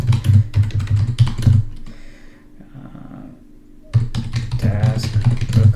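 Rapid clattering keystrokes on a computer keyboard, typed in quick bursts with a pause midway before fast typing resumes, close and clear with little else around it.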